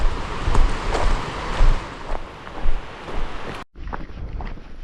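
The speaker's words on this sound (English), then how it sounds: "You can hear the Grider Creek." Flowing water of Grider Creek along a hiking trail on the Pacific Crest Trail, a steady broadband rush with wind buffeting the microphone and a brief dropout near the end.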